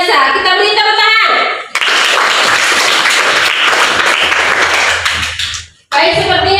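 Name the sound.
applause in a classroom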